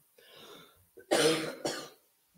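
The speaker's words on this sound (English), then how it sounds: "it's embarrassing standing up here coughing" A person at a church service coughs and clears their throat, a rough rasp followed by two sharp, close coughs, then quiet.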